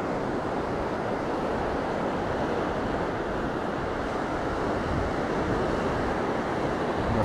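Sea at Side in winter, a constant broadband roar of surf with wind rushing over the microphone, steady and unbroken throughout.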